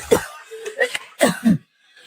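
A woman with a serious lung illness coughs in a few rough, close bursts with short pauses between them, followed by quiet.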